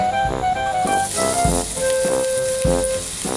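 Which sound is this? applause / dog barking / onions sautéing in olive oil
onions sautéing in olive oil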